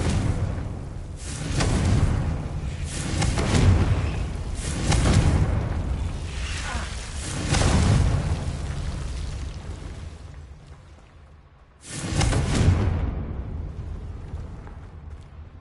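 Spell explosions from Bombarda and Confringo in Hogwarts Legacy, heavy booming blasts that swell and roll one after another, with a brief lull before a final loud burst.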